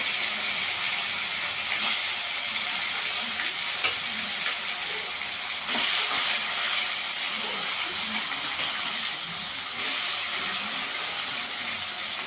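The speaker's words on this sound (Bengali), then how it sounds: "এখানে আমি কড়াইতে তেল দিয়ে দিয়েছি, তেলটা গরম হয়ে গেছে। এবার মাছগুলো ভেজে নেবো।" Pieces of katla fish fry in hot oil in a wok, a loud continuous hissing sizzle with a steady bright tone and occasional crackles, with no voices heard.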